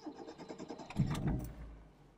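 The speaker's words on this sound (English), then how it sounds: "We're going to get this car started up," A 1980s Proton Saga engine cranks and catches around the middle, settling into a low steady idle that fades slightly toward the end, heard from inside the cabin.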